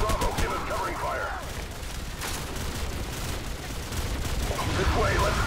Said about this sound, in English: Bravo, give us covering fire!